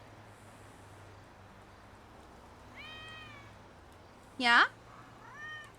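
A cat meows close by, with a couple of drawn-out, rising-falling meows and a louder sharp one near the end, while a person speaks briefly and softly.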